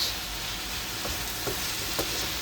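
Fish frying in a pan on a home stove, a steady close sizzle with a few faint clinks of a utensil, no voices.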